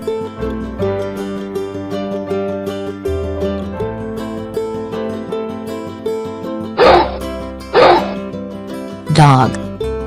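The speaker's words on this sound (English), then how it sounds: "Dog." Three quick, punchy dog barks from a children's animal toy sound near the end, cutting through cheerful looping background music.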